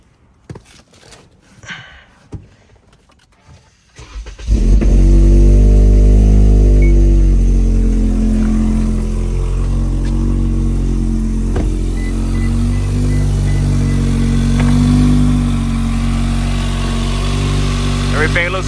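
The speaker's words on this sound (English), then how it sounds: "All right, now I'm about to start the car up to make sure everything's good." A four-cylinder Toyota Camry engine, fitted with a new alternator and serpentine belt, cranks and catches after a few seconds of quiet clicks and handling, then settles into a loud, steady idle that runs to the end.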